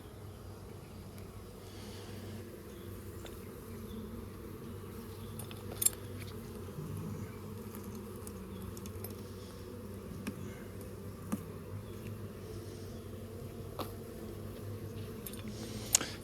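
A low, steady hum of honeybees in a hive drones throughout, with a few faint clicks and knocks rising above it at intervals.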